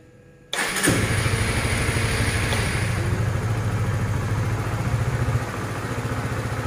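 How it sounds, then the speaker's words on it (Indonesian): A Honda CBR motorcycle engine fires up by remote alarm after a moment of near silence, catching abruptly and settling into a steady, loud idle that softens slightly toward the end. "untuk menghidupkan pun kita tidak perlu kontak seperti ini, kita cukup pakai remote"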